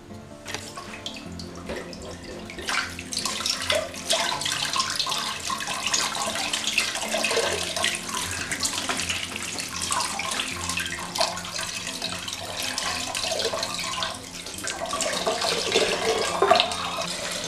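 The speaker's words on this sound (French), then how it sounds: "Donc je finis de laver mon poisson." Smoked fish being washed under a running tap in a sink, a steady close splashing and gushing of water that continues throughout with shifting intensity.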